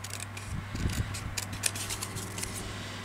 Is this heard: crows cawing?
no